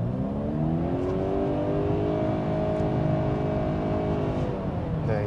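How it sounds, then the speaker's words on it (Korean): A Honda CR-V hybrid 4WD Touring with an Atkinson-cycle engine, under hard acceleration: a loud, steady rising drivetrain whine and engine drone holds for the whole stretch, with no talking. "이런 사운드는 변속기 소리인데 아주 좀 신경 쓰일 때가 꽤 있죠"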